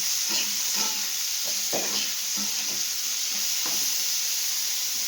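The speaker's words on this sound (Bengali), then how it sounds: "এদিকে উচ্ছে ভাজাটাও বসে দিয়েছি দেখো" Bitter gourd fries in a pan, a continuous sizzle broken by repeated spatula stirs and scrapes at an uneven rhythm, heard up close with no one talking.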